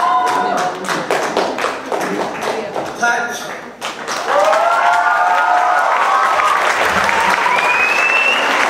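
Audience applause rolls through a crowd with dense clapping, loudest early on, broken by a brief dip before sustained noise, with talking and shouting mixed in.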